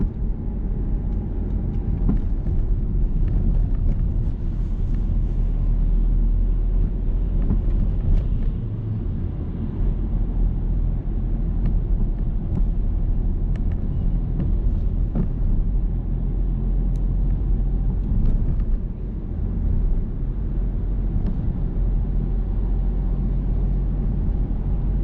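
A car's engine drones as a steady low rumble from inside the cabin while a learner driver eases off the accelerator during a driving lesson on roundabouts, with light road noise and no talk.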